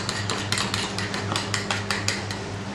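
Eggs with salt are whisked in a bowl, a quick run of sharp metallic clicks and taps in an uneven rhythm, close and fairly loud, with no talking.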